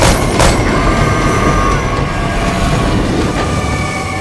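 A train rumbles past close by, a steady loud roar of wheels on rails with faint metallic squeals and clatter throughout.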